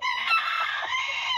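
A broody bantam hen clucking and crying out in a steady, loud, harsh call as she is lifted off a clutch of Brahma chicken eggs, close by and continuous, without talk.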